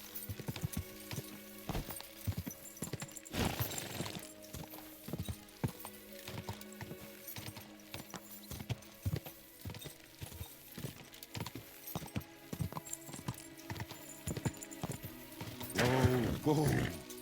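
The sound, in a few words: horse hooves galloping in video game Kingdom Come Deliverance 2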